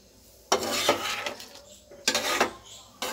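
Tutti frutti pieces are mixed in a pan with the gas turned off. Three loud scraping strokes ring against the metal, with short quiet gaps between them.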